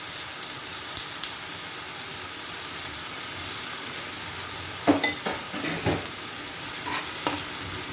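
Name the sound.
fish manchurian sizzling in sauce with ginger garlic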